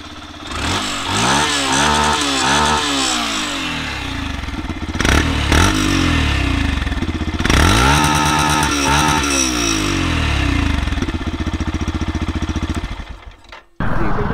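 A 2024 Yamaha FZS Version 4.0 motorcycle's exhaust repeatedly revs up and falls back to a throbbing idle, loud and close, before cutting out near the end.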